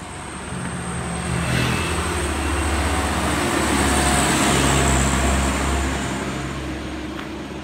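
A Yamaha Mio Sporty motorcycle engine that lacks power revs in a loud, steady droning whine. The engine is close and sounds alone, holding a sustained rise and fall for several seconds.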